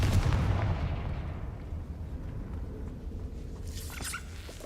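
A Confringo fire spell explodes in Hogwarts Legacy with a loud, booming blast up front that rolls off into a long rumbling decay, with faint magical shimmering near the end.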